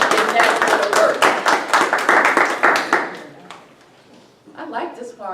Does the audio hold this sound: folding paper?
no